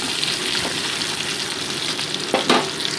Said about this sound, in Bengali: পেঁয়াজগুলোকে মোটামুটি মিনিট দুয়েক আমি ভেজে নিচ্ছি আলুর সাথে।